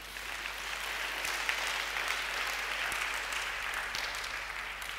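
A church congregation applauding together, a steady, moderately faint wash of clapping that holds evenly throughout with no breaks.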